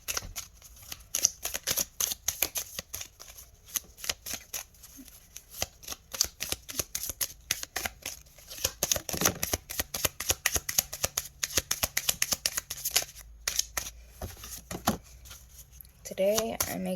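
A deck of affirmation cards being shuffled close by, a long run of quick papery riffles and flutters in repeated bursts, with a soft voice speaking briefly near the end.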